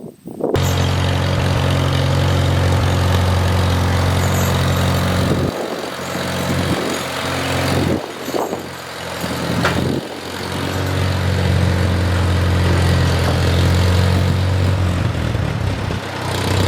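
A tractor engine runs steadily at close range for the whole stretch, a loud continuous drone with slight dips and surges, used for pasture mowing.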